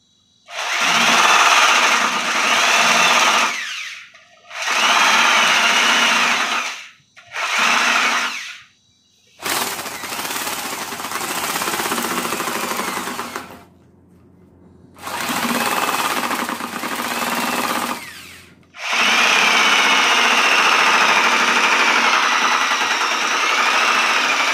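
A handheld drill machine spins with many pens attached, giving a loud, whining motor drone in several long bursts separated by short pauses, with no talk.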